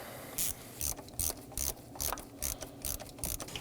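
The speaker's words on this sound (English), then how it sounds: "Now I'm just going to snug these down." A ratchet wrench snugs down the 8mm thermostat housing bolts on a 2018-2024 Chevrolet Equinox 1.5L, a run of crisp, evenly spaced clicking bursts up close with no talking.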